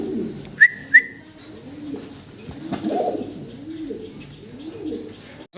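Healthy pigeons kept for sale coo in soft, repeated rolling calls close by, with two quick sharp whistles near the start and no talking.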